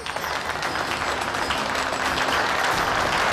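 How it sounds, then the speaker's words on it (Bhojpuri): Loud, dense applause from a crowd welcoming Bhaiya ji before a village kabaddi match, steady clapping that fills the whole stretch without a break. "तो जोरदार ताली से स्वागत करी भैया जी के"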